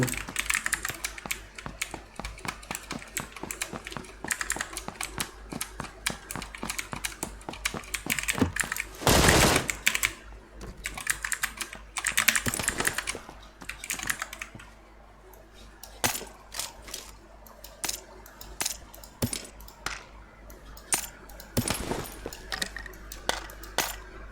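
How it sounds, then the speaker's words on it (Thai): Rapid, steady computer keyboard typing during a PUBG Lite gaming session, dense clicking keystrokes running almost nonstop close to the microphone, with occasional louder bursts of game gunfire breaking through. "พี่เป็นพี่เป็นลำคาญเสียงคีย์บอร์ดแล้วครับ"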